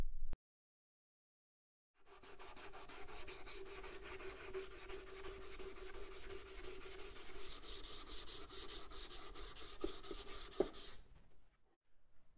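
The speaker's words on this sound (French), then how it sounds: "Koen ponce en longs mouvements pour retirer partout du matériau de façon homogène." Sandpaper worked in long, even strokes over polyester body filler on a café racer motorcycle, a steady close scratchy rasp with rhythmic back-and-forth pulses lasting about nine seconds after a brief silence, then stopping.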